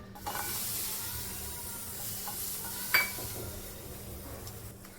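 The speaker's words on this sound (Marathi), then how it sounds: "गॅसवर आता आपण पॅन ठेवलेला आहे. मिरची भाजून घेऊया." Green chillies roasting in a pan over a gas flame, giving a faint steady sizzle and hiss with occasional stirring scrapes and one sharp clink near the middle.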